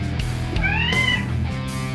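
A cat gives a single short, rising-then-falling meow in a kitchen, heard clearly over a steady low background hum.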